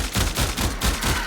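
Cannon fire in the Warframe video game, heard as a quick run of about four loud, punchy blasts in steady succession with no talk.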